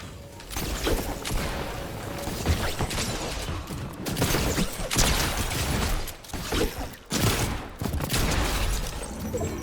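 Shotgun blasts fired in a video game, set in a dense, continuous din of gunfire, crashes and mechanical clatter that stays loud throughout, with no clear voices.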